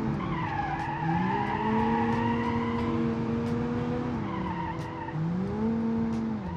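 A hatchback in a racing video game skids and oversteers, its tires squealing in long, loud wavering screeches over a steady engine drone, with no talking.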